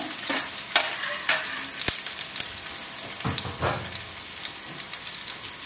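Onions sautéing in hot oil with mustard seeds and cumin, a steady close sizzle broken by sharp scraping strokes of a spatula against the pan, repeated every second or so; no voices.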